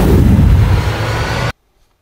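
Groza rifle fire in a Free Fire-style zombie shooter game comes as a dense, booming burst of shots for about a second and a half, then cuts off abruptly into silence.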